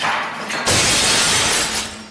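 Glass shattering in a sudden loud crash, a bright burst of breaking pieces that sustains and then tapers away, heard alone at close range.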